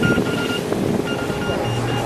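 A watermaker aboard a sailing boat on a passage from Grenada to Grand Turk, producing about 25 liters of fresh water an hour, gives a steady mechanical hum with a faint high whine over wind and sea noise.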